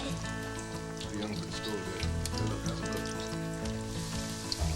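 Food sizzling in a hot pan on a stove in a children's cartoon, a steady crackling hiss under background music, fairly close and moderately quiet.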